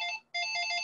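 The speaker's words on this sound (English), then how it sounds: "Sorry, that's my phone." A mobile phone ringtone chimes during an online meeting, sounding as two faint electronic tonal bursts separated by a brief gap, with no speech over it.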